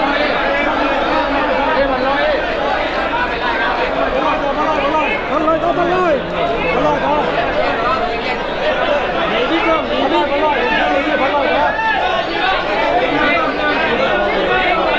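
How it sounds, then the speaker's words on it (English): A dense, loud crowd roars and chatters continuously at a southern Thai bullfight in Hat Yai, excited voices blending into a steady babble without pause. "Lots and lots of excitement in the crowd."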